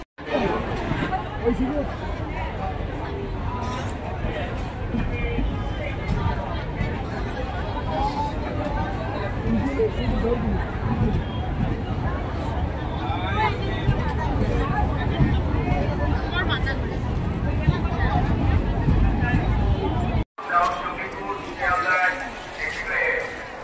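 At an Indian railway station, a large crowd fills the air with constant babble and overlapping voices, a thick, unbroken hubbub that cuts out abruptly near the end before resuming briefly.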